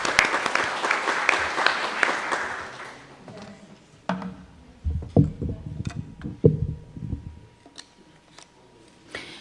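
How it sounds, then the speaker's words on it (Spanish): Audience applause for panel speakers at a conversatorio, a dense burst of clapping for the first few seconds that thins out into scattered, sparse claps and faint room noise. "un aplauso por favor a nuestras expositoras y expositores"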